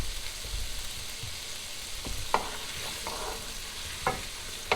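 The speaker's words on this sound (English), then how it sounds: "Let me stir that around." Sautéed radishes sizzle steadily in a pan while a utensil stirs them, adding occasional light scrapes and clicks, close up with no voices.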